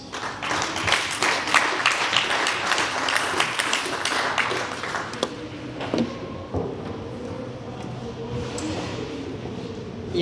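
Applause welcoming a presenter onto a hackathon stage, a lively burst of clapping for about five seconds that dies away into quieter room noise with faint voices and small handling sounds.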